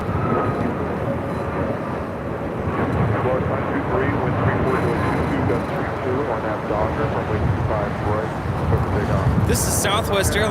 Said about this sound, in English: This is Southwest Airlines 336 taking off to Austin on a MAX 8.